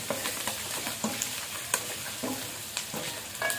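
Pork sizzles and crackles steadily in a hot pan, with scattered pops and occasional scraping from stirring.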